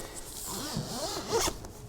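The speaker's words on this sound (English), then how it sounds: "to not be wakened early morning by the zipper." A zipper on the door of an Outwell five-person family tent is pulled in one quick, close rasping run lasting about a second and a half, with no voices.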